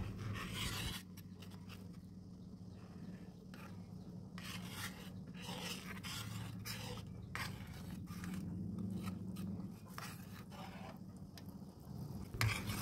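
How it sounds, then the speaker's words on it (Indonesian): Steady scraping and stirring of coconut milk in a pot, a spoon rasping continuously against the bottom with soft liquid sounds as it heats toward a boil, close and fairly quiet. "Aduk terus sampai santannya ini mendidih ya"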